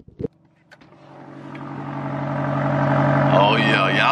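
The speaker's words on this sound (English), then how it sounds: "Oh, yeah, y'all hear that exhaust." Exhaust note of a 2023 BMW XM hybrid SUV: a few short blips up close, then a long, building rev that grows louder and higher, with a voice calling out briefly near the end.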